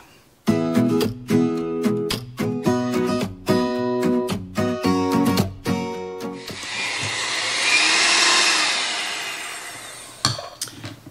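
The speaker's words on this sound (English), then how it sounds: "I just got my handy dandy hand mixer that I've had for 30 years, and I'm going to get this blended up" A 30-year-old hand mixer whips a make-ahead Thanksgiving dessert mixture, first in choppy starts amid clattering, then as a steady motor whir for several seconds before stopping.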